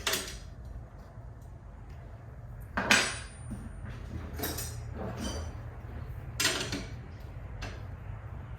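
Metal tool clicks and creaks while the front wheel bolts of a 1990s chrome Dyno Compe BMX freestyle bike are tightened with a 15mm wrench, a few short sharp ratcheting bursts over a low steady room hum.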